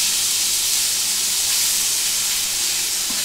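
Pumpkin pieces hiss and sizzle in a hot pan of oil with plumped raisins while sweet pumpkin halwa is being cooked, a steady broadband frying sound with no talk.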